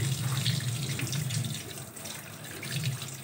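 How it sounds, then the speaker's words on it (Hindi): A tap runs steadily into a sink, water splashing and gurgling as fish is rinsed beneath it, with no talking. "इसको फिर हम पानी से अच्छी तरह से धोते हैं।"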